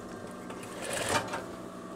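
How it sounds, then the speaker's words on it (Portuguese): A sewing machine runs a second seam along the top of veterinary coveralls, a steady close mechanical whir of rapid stitching that swells slightly midway, with no voices. "Agora eu vou passar a segunda costura aqui em cima."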